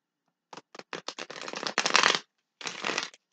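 A deck of tarot cards is shuffled close up in quick ruffling bursts, a few short flicks building into longer riffles, then a brief pause before one more riffle.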